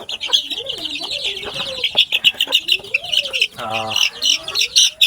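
Native Filipino chickens clucking and chirping in short close calls over steady bird chatter, with a brief burst of louder clucking near the middle.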